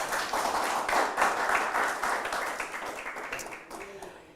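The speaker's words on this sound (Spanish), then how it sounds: "Denle un aplauso al Señor." A church congregation claps for the Lord during a seminary Bible study, a rhythmic burst of moderate applause that gradually thins and tapers off.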